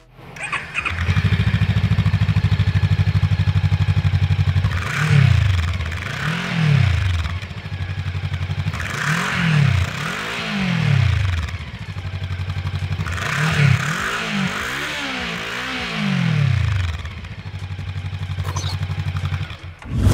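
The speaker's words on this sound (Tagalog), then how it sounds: "Being a dual-cylinder engine, the sound of the stock exhaust will be more crunchy and punchy rather than the finesse sound of a 3 or 4-cylinder engines" A Voge 500 AC dual-cylinder motorcycle on its stock exhaust idles with a punchy, crunchy burble, then is blipped in a series of sharp revs rising and falling, a quick double-rev cluster near the end, close and loud.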